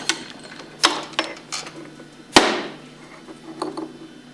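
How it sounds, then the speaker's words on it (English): A bearing is pressed into a Hypro roller pump with a bearing tool: a series of sharp metallic taps and clicks, with one louder ringing knock in the middle, close and alone over faint background hum. "Use the same tool, press it in until it bottoms out."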